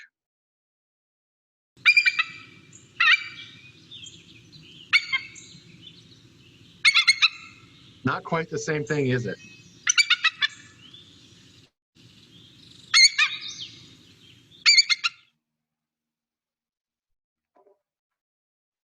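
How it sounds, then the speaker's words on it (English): A recording of a bald eagle call plays as a series of short, high chittering bursts spaced a second or two apart, with a person speaking briefly in the middle. "So that's the bald eagle call."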